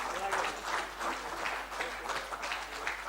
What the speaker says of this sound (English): Can we hear a big round of applause for him?